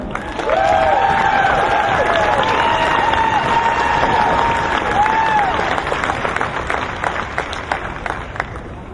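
Steady audience applause at a Child Protection League rally welcoming Eric, a speaker, as a dense crowd claps loudly for several seconds while a few bright cheers and whistles rise above the clapping.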